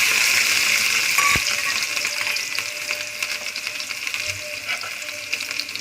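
Garlic and green chillies sizzle and fry in a pan for baingan bharta, a steady close crackle with a brief clink partway through and no talk.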